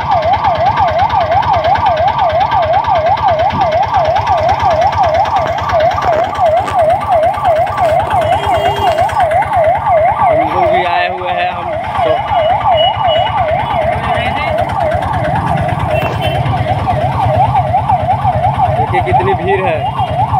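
A loud, close ambulance siren wails continuously in a rapid oscillating pattern, with faint crowd and traffic noise underneath, at Hanamkonda bus stand in Warangal, India.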